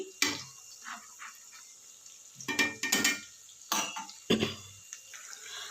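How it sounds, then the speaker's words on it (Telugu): Ginger paste fries in a pan and is stirred, giving soft sizzling broken by several sharp scrapes and clinks of a spoon against metal in irregular bursts, close by, with no talking. "అల్లం పేస్ట్ వేగేటప్పుడు మాత్రం ఇట్లాగా కొంచెం అంతా నురగలా వస్తుందండి."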